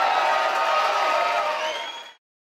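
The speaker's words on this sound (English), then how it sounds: "The crowd are shouting as always, and this is how we like it." Crowd at an MMA fight night in a packed venue, shouting and cheering together in one dense, steady roar that stays loud for about two seconds before cutting off abruptly.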